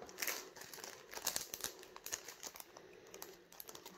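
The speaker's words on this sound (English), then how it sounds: "Take this little one out of the packaging" A small Lavinia craft stamp pulled from its crinkly plastic packaging, giving close, quiet bursts of crackling and rustling with brief sharp crinkles and short pauses, no talk.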